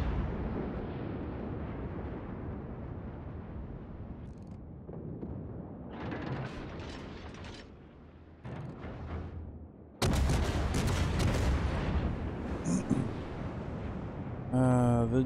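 Naval cannon fire in the World of Warships video game, made up of dull booming salvos and a sustained roaring barrage, loud and dense, with sharp bursts toward the end. Someone speaks over the battle noise.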